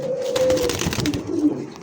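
Holland Jacobin pigeons give soft, low, rolling coos that repeat several times over a couple of seconds, close by, with faint background noise and no speech.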